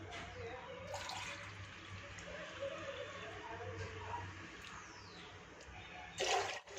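Water is poured from a measuring cup into rice flour for masala rice papad dough, a steady trickling and splashing that runs for several seconds at close range, with a brief louder splash near the end.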